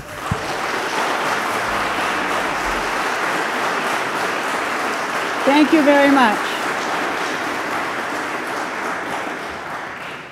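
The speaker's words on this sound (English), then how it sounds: "I know it's human nature to applaud someone when you're in favor of what they've said or you agree with it" Audience applause at a Gloucester city zoning vote meeting on the Fort hotel: steady, sustained clapping across the whole stretch, with a speaker briefly thanking the crowd over it.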